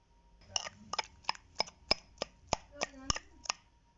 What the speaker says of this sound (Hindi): अच्छी तरह से कूटेंगे हम इसको और बारीक थोड़ा सा।